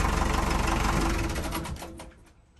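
A four-cylinder boat engine runs steadily with a regular mechanical knock while the boat passes through a lock on a London river, loud and close at first and then tapering off near the end.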